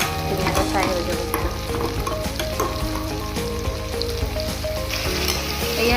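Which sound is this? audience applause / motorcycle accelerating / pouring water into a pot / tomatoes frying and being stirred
tomatoes frying and being stirred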